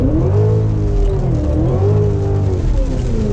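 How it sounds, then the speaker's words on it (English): Engine of a Cadillac CTS-V heard from inside the cabin, loud and close, rising in pitch as it accelerates, dropping briefly at a gear change, then climbing again, in a thunderstorm. "Every time it changes gear, it like grips a little bit, then it goes back."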